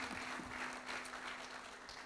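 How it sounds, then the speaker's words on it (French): Faint, distant applause from a conference audience at an industry event, a soft continuous patter of clapping lasting a couple of seconds. "Je voudrais que vous l'applaudissiez"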